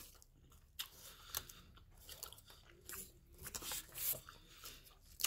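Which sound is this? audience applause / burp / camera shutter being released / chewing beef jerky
chewing beef jerky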